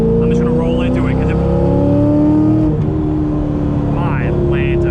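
A C5 Z06 Corvette accelerating hard along a back road, the engine note rising loud and close through the gears with a brief dip at a shift, while the driver talks over it.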